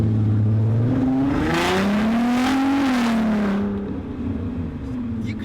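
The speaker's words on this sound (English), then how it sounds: "this car sounds like a baby GTR" A VW Golf R32 MK5 Stage 2 with a loud exhaust revs up with a rising, throaty note, climbing in pitch and then easing off, loud and close.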